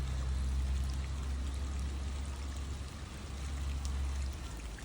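Water pours and trickles steadily near Mendenhall Glacier in Juneau, Alaska, a continuous close rushing flow with a deep low rumble underneath, no voices.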